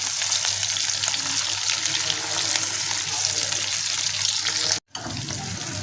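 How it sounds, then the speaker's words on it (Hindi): Tomato and almonds fry in a pan with a close, steady sizzling hiss that briefly cuts out near the end before resuming. "इनको भी हम हल्का सा फ्राई कर लेंगे"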